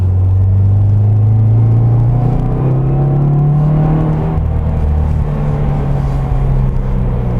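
A 2017 Subaru WRX pulls hard in second gear through corners, its engine droning loud and close from the cabin as the pitch climbs smoothly then holds, over steady road rumble.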